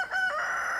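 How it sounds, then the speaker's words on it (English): A backyard rooster that sounds slightly off gives a short, close, strained crow, one brief tonal call under a second long. "that's my rooster. He doesn't sound quite right, does he?"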